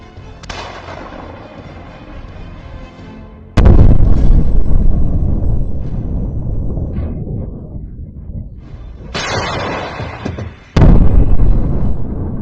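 Heavy artillery booms out in several loud, sharp blasts, each followed by a long rumbling echo that lingers between shots, in the war in Ukraine.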